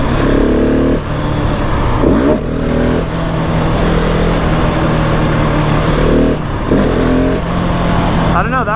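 A 2020 Husqvarna 701 SM motorcycle accelerates hard for a third gear clutch-up wheelie, its loud close engine climbing through revs with brief drops between pulls, while a rider talks over it.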